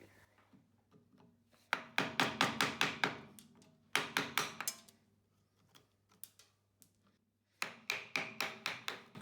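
Chisel chopping into mistletoe wood gives bursts of sharp, close, regular taps, three separate runs of about five to eight strikes each, with quiet pauses between them.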